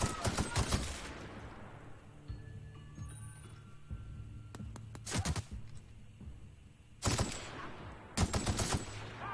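Gunfire from the player's weapon at a marauder in The Outer Worlds, several sharp loud shots in separate bursts spaced across the scene, with quiet ambience and faint game tones between them.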